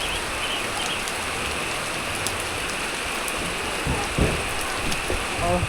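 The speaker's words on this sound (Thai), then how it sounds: "นี่ฝนตกนี่คักเลยพี่น้อง" Heavy rain pours steadily in a dense, hissing wash over the Thai countryside in the rainy season, with a few louder splashes and drips near the end; no voices are heard.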